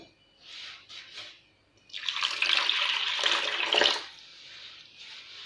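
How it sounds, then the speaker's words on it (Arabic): Water poured into a bowl of semolina for Bou Saada rfiss, a few faint splashes and then a steady pouring rush for about two seconds, close and fairly quiet. "نضيف الآن الماء،"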